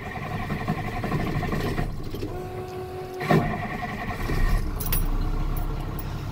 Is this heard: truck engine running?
yes